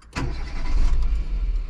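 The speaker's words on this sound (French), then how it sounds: "Voilà, la voiture est démarrée." A car engine cranks and catches during a diagnostic-tool demonstration, then settles into a steady, low idle rumble close to the microphone.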